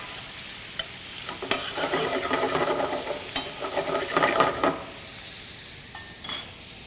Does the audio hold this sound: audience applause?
no